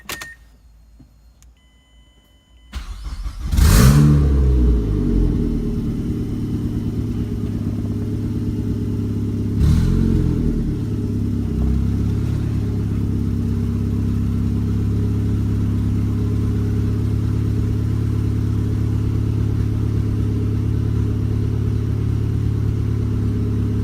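A Mazdaspeed 3 with no hood starts up and revs with a sharp rising swell, then settles into a steady loud engine drone while driving, with a second brief rev surge partway through, close and without talk.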